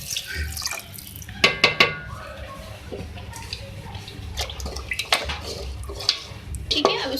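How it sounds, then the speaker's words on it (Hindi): Water poured into beef karahi in a pan, two glasses' worth, sloshing and splashing with a few sharp clinks of utensils against the pot, close and moderately loud over faint kitchen background. "मैं इसमें ऐड करूँगी पानी 2 गिलास और इसको मैं करूँगी कुक करूँगी"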